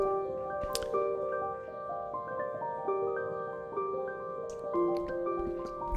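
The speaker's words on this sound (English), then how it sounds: "And it just makes some beautiful piano textures." Layered piano loops on a Ditto Looper are sped up to twice the speed and pitched up an octave, giving bright, chiming sustained notes that shift in soft stepwise patterns. The sound is quiet, with no speech.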